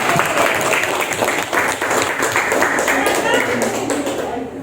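An audience in a group activity session applauds a winning group, dense clapping sustained loudly throughout.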